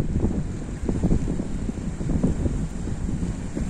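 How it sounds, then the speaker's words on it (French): Wind buffets an unshielded microphone outdoors in countryside near a forest, a continuous loud low rumbling roar with gusting surges. "Il y a un petit peu de vent, j'ai pas mon micro"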